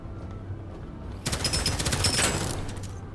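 Rapid burst of gunfire from shooting airborne enemies in the video game Deadzone: Rogue, a dense loud volley of about a second and a half rising over quieter game ambience, then trailing off.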